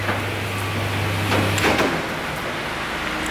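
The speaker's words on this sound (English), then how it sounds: "open this door" A workshop door opened, a low steady hum giving way midway to a brief scraping, sliding rumble, alone and close.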